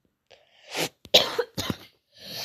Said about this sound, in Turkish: Çok öksürüyorum nedense.